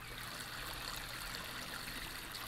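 Water pours steadily from a watering can onto plants in a weed-farming simulator game, a continuous soft trickling splash with no break.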